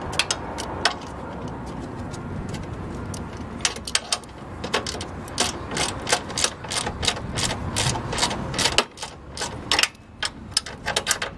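Wrench ratcheting as a bolt is tightened on a Cub Cadet 3X 26-inch snow blower, a steady run of sharp close clicks in uneven bursts over a quiet workshop background, with no talking.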